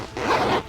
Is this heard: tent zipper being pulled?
yes